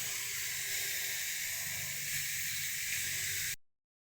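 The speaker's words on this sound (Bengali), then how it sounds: "কড়াই তেল দিয়ে দিয়েছি এবার কালো জিরে ফরম দিয়ে দেবো" Black cumin seeds sizzle in hot oil in a wok, a steady, close hiss that holds evenly for about three and a half seconds before cutting off abruptly.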